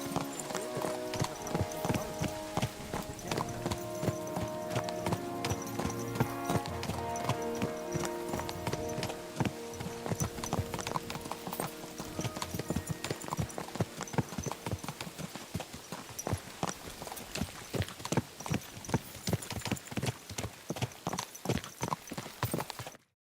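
Horse hooves clip-clopping in the video game Kingdom Come Deliverance 2, a brisk rhythmic run of hoofbeats that grows denser and more distinct toward the end, playing over a busy, layered backdrop of music and ambient sound.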